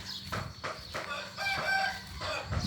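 Farm chickens cluck and call in short bursts close by, with a longer drawn-out call near the middle, over soft background noise.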